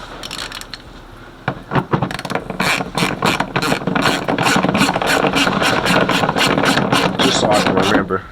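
Rapid ratchet clicking while bolts are tightened back into a car engine bay, loud and close, starting with a few separate clicks and then running in a steady fast rhythm.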